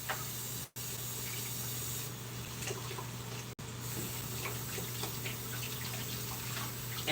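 Tap water runs steadily into a kitchen sink as hands are rinsed, a continuous close splashing flow with two brief cut-offs, no talk.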